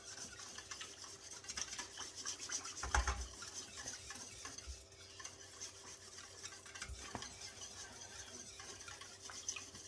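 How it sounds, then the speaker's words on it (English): A whisk stirs cold process Ayurvedic soap batter in a bowl, a continuous soft scraping and swishing with a few knocks against the container, fairly quiet and close. "I'm going to use my whisk to get it all in there."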